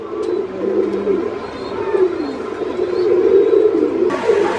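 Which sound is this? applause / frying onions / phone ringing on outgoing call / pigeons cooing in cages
pigeons cooing in cages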